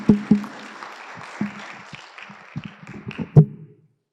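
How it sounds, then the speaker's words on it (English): A sparse round of applause from a small conference audience, a few individual claps scattered over several seconds, fairly close and fading out. "let's just give them a round of applause"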